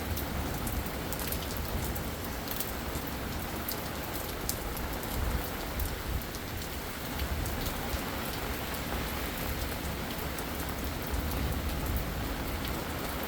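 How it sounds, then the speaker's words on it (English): Steady heavy rain during a thunderstorm in Utah, a dense continuous hiss of drops striking surfaces nearby, even and loud throughout with no voices. "This is just a thunderstorm lightning with us getting rain now."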